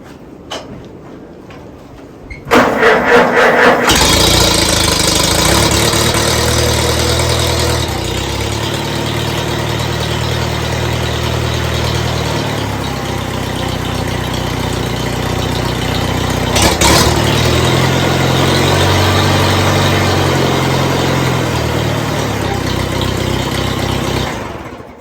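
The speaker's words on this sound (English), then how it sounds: "if you're wondering why it sounds like a Super C, it is a Super C. It has a 51 Super C motor in it" A 1951 Super C tractor motor catches after a brief starting burst and settles into a steady, loud, throaty idle that runs on alone for over twenty seconds, with a short revving swell partway through.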